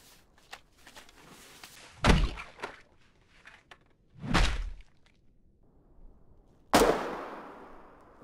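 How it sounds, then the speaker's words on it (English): A grenade thrown in the video game Foxhole, with a few sharp muffled thuds and bursts spaced out over several seconds, the last one loud with a lingering decaying rumble, no talking. "throwing a grenade"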